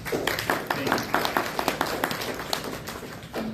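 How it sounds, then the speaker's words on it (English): Audience at a live-streamed meeting clapping for an introduced lieutenant, a sparse, uneven patter of hand claps at moderate distance, while a voice talks over it. "give him a round of applause"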